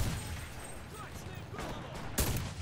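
Gunfire in the video game Enlisted, a few sharp shots cracking out amid a busy, noisy battle background, with the loudest burst near the end.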